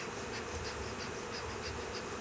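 Honeybees drone steadily at an opened beehive, a dense continuous buzz held at an even level throughout, close and alone with no voices.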